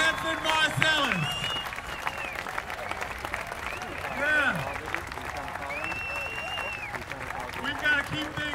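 A jazz concert audience applauds and cheers for a quartet in Boston, sustained clapping with whoops and shouts, fairly close and loud throughout.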